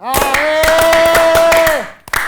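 Loud, close clapping at a studio comedy show comes in quick repeated beats, and a voice holds one long loud note over it. The claps break off near the end and then pick up briefly.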